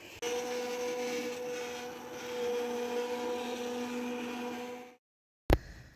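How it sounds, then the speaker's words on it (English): An immersion blender blending oven-roasted tomato soup runs with a steady, loud, continuous motorized whir for about five seconds, then cuts off abruptly, followed by a brief knock. "I'm going to just use an immersion blender and do it that way"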